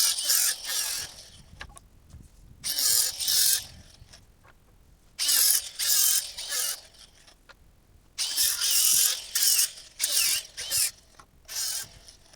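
A rickety electric planer runs salvaged floorboards through in repeated bursts, each pass a loud, bright whining roar lasting a second or two, with quieter motor hum and handling clatter between passes.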